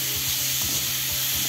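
Sliced onions sauté in oil in a pan for a Kerala duck egg roast, a continuous close sizzle with a regular scraping rhythm as they are stirred.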